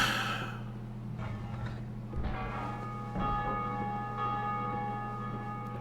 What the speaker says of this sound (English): The Bellkeepers themselves will ring the bell in honor of the prince and the princess a lot